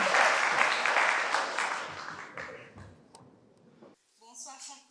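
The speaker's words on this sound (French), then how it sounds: "sous vos applaudissements, s'il vous plaît" Applause from an audience at a French medical teaching session rises loudly at first and then fades over a few seconds, giving way to a brief voice near the end.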